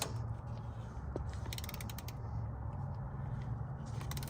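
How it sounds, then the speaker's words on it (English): A ratchet tightens the front differential drain plug on a Toyota Tacoma, crushing its silver washer: a few close, faint clicks and creaks over a steady low hum, with no talking. "it's just crushing that silver washer right now"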